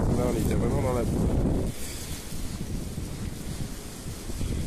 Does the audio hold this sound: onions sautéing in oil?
no